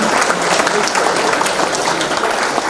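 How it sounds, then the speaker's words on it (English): A live audience gives a round of applause for Brad at an event, with dense, steady clapping held at a constant level for the whole stretch. "Round of applause for Brad, ladies and gentlemen."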